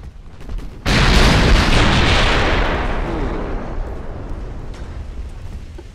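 Torpedo explosions in a naval battle of a French Empire campaign strategy game, a sudden loud broadband blast that erupts after a quiet moment and rolls on as a long, slowly fading rumble.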